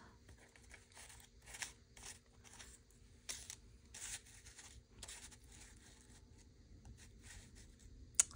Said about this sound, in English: So I'm going to cut the spider here.